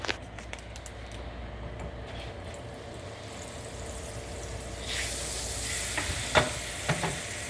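Half a stick of butter sizzling as it melts in a pan beside frying fish and shrimp, a low steady hiss that swells louder partway through, with a few sharp crackles and pops near the end.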